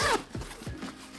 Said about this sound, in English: AquaGuard zippers.